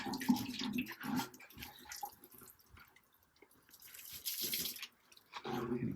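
Water poured onto a potted fig plant in a home garden, heard as faint splashing and dripping that comes in short bursts with quiet gaps between them, with no talk over it.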